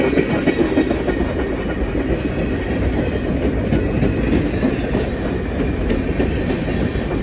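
A CSX freight train hauling covered hopper cars rolls past on the Cumberland Sub, with a loud, close, continuous rumble and steady clickety-clack of wheels that lasts the whole time.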